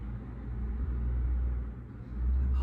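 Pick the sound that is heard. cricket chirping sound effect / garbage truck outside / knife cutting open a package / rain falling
garbage truck outside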